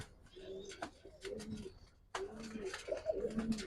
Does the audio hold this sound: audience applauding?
no